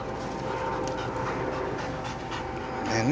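An Air Force working dog pants steadily and close by during a bite-training session with a boxer, with a faint whine near the end and no clear barking.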